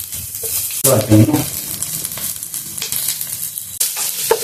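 Frozen peas and green peppers frying and sizzling in a pan for paneer jalfrezi, a steady close hiss with a louder burst of crackling stir noise early on, continuing without talk.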